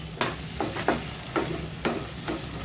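Boiled figs stirred into a sautéing tomato gravy in a pan, giving a steady low sizzle with several distinct scraping stir strokes at a regular pace, close by and without talk.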